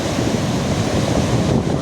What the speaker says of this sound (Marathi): लाटा बघा किती मोठमोठ्या लाटा आहेत